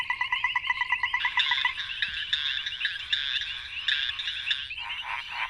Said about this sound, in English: With few exceptions, frogs vocalize to call for mates.